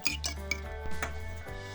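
A utensil clinks and scrapes against a bowl in quick, uneven strokes, stirring sour cream and an egg, a close, steady stirring with faint resonant ringing between hits.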